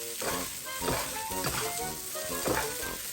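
Egg fried rice with carrots sizzles steadily as it is stir-fried in a pan, with a continuous loud frying hiss and repeated scraping strokes of stirring throughout.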